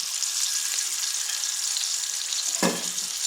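Garlic, onion and cumin pastes fry in a pan for egg bhuna, making a steady bright close sizzle, with one short scrape of stirring near the end and no voices.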